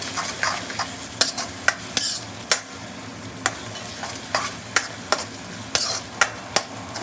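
A spoon scrapes and knocks through chicken masala with coriander powder in a kadai, giving about a dozen sharp metallic clicks in an uneven rhythm over a soft, steady frying sizzle.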